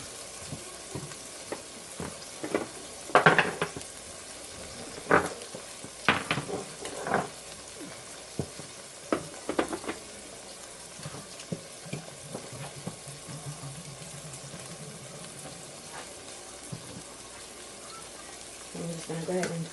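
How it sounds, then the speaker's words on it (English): Hot oil sizzles in a home deep fryer heating for fries, a steady faint hiss under kitchen clatter and scattered knocks, with a person talking at times. "I went ahead and turned on the grease for the fries because I have a deep fryer"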